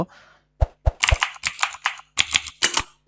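Fast typing on a PC keyboard while entering a browser search, a burst of crisp key clicks in uneven runs with short pauses, close and clear with no talk.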